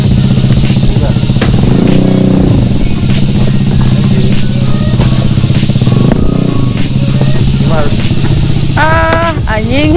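A Vespa scooter's engine runs loud and close on a forest ride, a steady buzzing drone that swells into brief revs and then settles back, continuing without a break.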